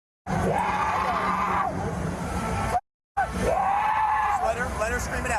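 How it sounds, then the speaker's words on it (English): A woman screams repeatedly at a Korn concert, long loud wails broken by a brief silence, with crowd noise and other voices around her. "Let her scream it out."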